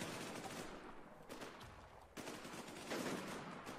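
Gunfire rattles in an online video game as rapid bursts of shots and dense crackling fire, mostly continuous and fairly faint.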